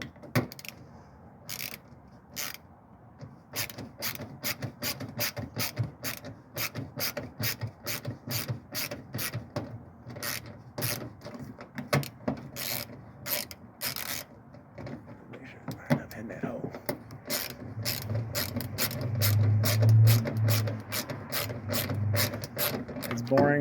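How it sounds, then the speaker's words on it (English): A wrench ratchets in rapid clicking runs while screws are tightened on a 2002 Ford Windstar lift gate handle, close and fairly quiet, with someone talking and some rubbing and handling noise near the end. "boring watching me twist a wrench"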